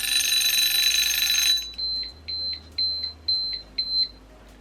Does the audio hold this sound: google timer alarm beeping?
yes